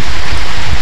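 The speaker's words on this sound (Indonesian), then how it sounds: "Kita mau pulang karena hujan." Rain falls outdoors at the site of a former dam, a loud, dense, steady hiss of water filling the whole moment with no voices.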